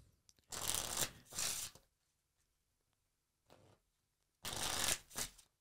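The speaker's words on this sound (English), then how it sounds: "Give the deck a shuffle, please." A brand new deck of playing cards being shuffled by hand, two crisp riffle bursts at the start, a short faint flick in the middle, then two more riffles near the end, close and clear with quiet gaps between.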